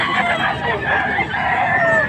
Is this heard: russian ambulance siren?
no